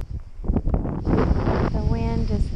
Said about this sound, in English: that wind is kind of hard to walk against